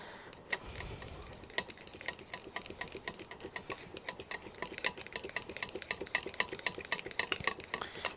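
Gelatin being stirred into a no-bake Oreo cheesecake filling, with rapid, steady clicking and scraping throughout, fairly quiet and close, with no talking.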